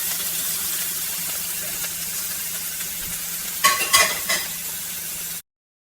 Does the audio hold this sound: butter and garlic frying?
yes